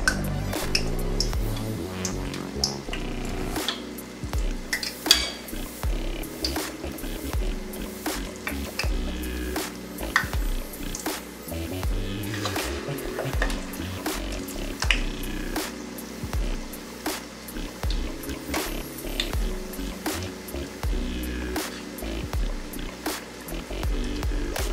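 Marinade batter dropped by spoonfuls into hot oil, frying with a steady crackling sizzle and occasional spoon clinks against a pot, continuous and close for the whole stretch.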